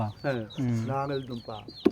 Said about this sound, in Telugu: కోళ్ళు కూడా తింటున్నాయి ఇదిగో చూడండి